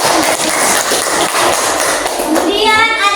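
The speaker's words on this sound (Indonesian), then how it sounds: "Beri aplaus kepada teman kita" Classroom applause breaking out for a classmate among schoolchildren, a dense wash of clapping hands running throughout with children's voices mixed in and a brief whistling tone near the end.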